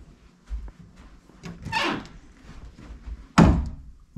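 Double doors of a mobile home master bedroom are tried, giving a couple of loud wooden thunks and rattles close by, the last one heavier, with no talk.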